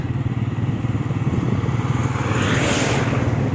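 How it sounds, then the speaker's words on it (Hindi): A motorcycle ridden along a road on a cold, foggy morning, its engine a steady close rumble with pulsing low-end throb that swells slightly louder near the end. "मैं जा रहा हूँ बाइक पर, वो आगे बस आ रही है।"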